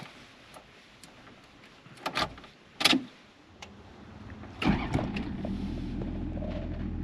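A 1993 Toyota Land Cruiser HZJ77 diesel heard from inside the cabin: key clicks and a few sharp knocks, then the starter cranks and the engine catches and settles into a steady low idle.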